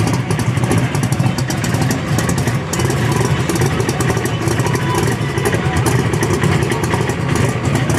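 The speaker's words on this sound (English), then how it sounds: "Another fast hot rod here at Cody Jones in the Mustang." A Mustang hot rod at a drag strip roars steadily and loudly for the whole stretch, a dense, continuous engine rumble with clattering texture and no break.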